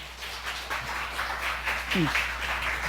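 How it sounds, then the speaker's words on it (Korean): A church congregation at a Sunday service applauds, sustained clapping that spreads across the room at moderate loudness while a voice speaks over it. "할렐루야로 우리 박수로 환영합시다."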